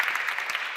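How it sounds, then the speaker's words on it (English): A crowd applauds speaker Bill Watkin at an education event, a short burst of steady, dense clapping heard alone. "Big warm round of applause, please, for an incredible speaker."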